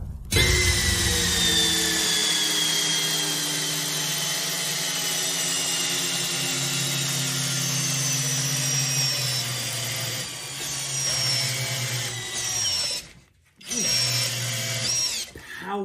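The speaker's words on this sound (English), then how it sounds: "see how much time it takes each one of these drills to completely bury this lag screw into a 6x6" A power drill drives a 6-inch lag screw through a socket adapter into a 6x6 timber, whining loud and steady as its pitch sags under load, then stops briefly and starts again near the end.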